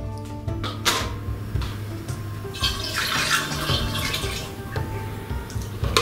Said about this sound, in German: natürlich werde ich Topf und kleine Schüssel wieder etwas ausschwenken